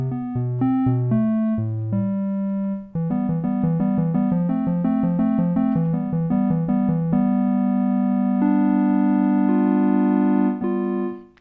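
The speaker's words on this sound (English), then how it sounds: "The clean tone again sounds like this." Clean synthesizer tone through a pedal chain, playing a steady melodic line of sustained harmonic notes with occasional gaps, loud and close with no voices.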